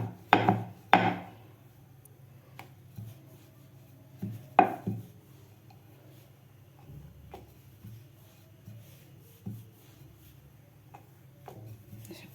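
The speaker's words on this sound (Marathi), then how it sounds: "अशा प्रकारे आपल्याला पुरी लाटून घ्यायची आहे" Puri dough being rolled out with a rolling pin, giving a few sharp knocks of the pin on the board early on, then softer intermittent rubbing and tapping, close and quiet, with no voices.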